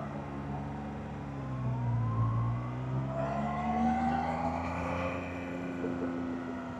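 A car's engine revs in sport mode during a test ride at an autoshow, with a steady harmonic drone rising and falling in pitch as it accelerates, loud and close throughout with no talk.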